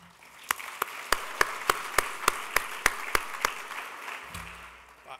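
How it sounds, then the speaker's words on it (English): A symposium crowd applauding itself, many hands clapping together under a run of crisp, evenly spaced louder claps, then tapering off as a low hum comes in near the end. "And then give yourselves a round of applause."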